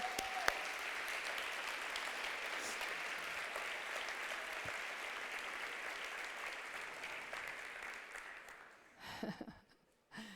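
A church congregation gives strong, sustained applause, a dense wash of clapping that holds steady for several seconds, then fades out with a brief voice at the end.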